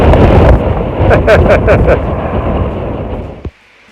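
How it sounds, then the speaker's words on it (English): Strong wind on open high plains buffets the microphone with loud, rumbling gusts, along with a few faint whistling sounds, before cutting out abruptly near the end. "it's super windy on these high plains"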